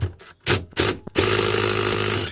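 A power tool driving a 17mm socket whirs in short bursts against a stuck nut on a Sur Ron electric motorbike, then runs in one sustained loud buzz as the nut breaks free, close and without talking.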